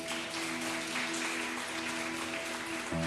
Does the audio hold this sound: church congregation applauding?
yes